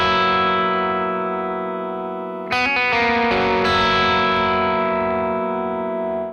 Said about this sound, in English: sometimes it's okay just to play a really cool lick and repeat it 4 times